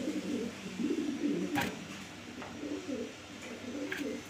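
A pair of pigeons offered by a bird seller coo in soft, low, rolling phrases that repeat steadily at close range, with no talking over them.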